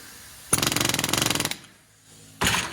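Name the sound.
hammering a pin through metal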